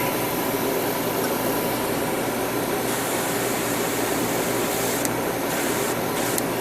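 Steady, hissing spray paint on a plastic model kit part runs continuously and close by, a broad airy rush with no pauses and no voices.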